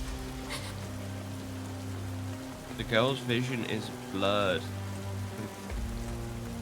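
Steady rain falls on the ground in a dramatic animated game scene, a constant hiss running beneath a low musical drone, with a voice speaking briefly over it.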